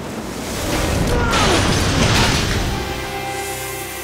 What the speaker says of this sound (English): I'm gonna send 300 gallons of water through some windows.